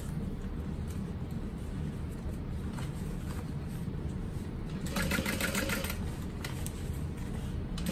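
A sewing machine back stitching on a Sydney crossbody bag runs in a steady, close mechanical whir, briefly rising in intensity partway through before settling again, with no talking.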